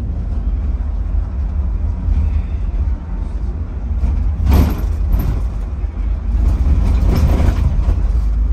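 A bus rolls along a road in Morocco with a steady low engine rumble and road noise heard from inside, plus a couple of brief hissing bursts partway through.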